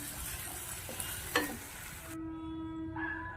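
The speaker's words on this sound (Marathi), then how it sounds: "जिरे परतल्यानंतर त्याच्यामध्ये कापलेला कांदा" Cut onion fries in mustard oil with cumin in a pan, giving a close, steady sizzle with stirring scrapes and a brief clatter partway through.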